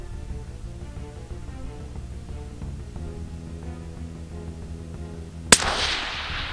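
A single sharp rifle shot fired at a target 300 yards away cracks out loud and close near the end, followed by a brief echoing decay, preceded by a low steady hum of background noise.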